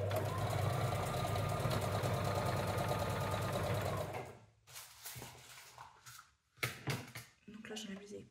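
Sewing machine running a straight stitch on clothing, a fast steady mechanical whirring and rattling for about four seconds close by, then stopping as someone speaks quietly over small handling clicks.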